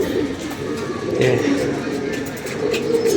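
Six pigeons perch together and coo softly in low murmurs under a continuous hum of background noise and nearby activity.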